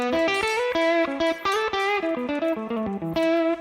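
Overdriven electric guitar played through a Chula pedal, with a brisk run of distorted notes and chords that ring loud and close and carry no talk over them.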